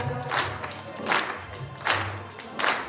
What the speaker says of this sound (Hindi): हाथ पकड़ लेगा ताली बजाओ।